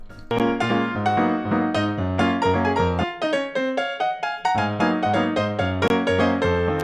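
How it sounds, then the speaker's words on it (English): Close, clear piano playing chords under a moving melody line, with steady rhythmic note changes throughout and no voices. "I ended up breaking the piano into two parts that sound like this."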